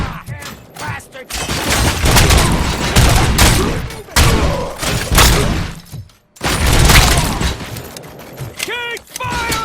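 Heavy gunfire from RoboCop: Rogue City, with dense bursts and booms filling most of the stretch. A short silence falls near the six-second mark, then firing resumes, while shouted voices come in and out over the shooting.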